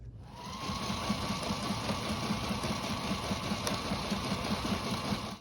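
Sewing machine stitching sail panels together for a gaff mainsail, a steady continuous mechanical hum and rapid needle rhythm running unbroken at moderate level, close by, with no talking.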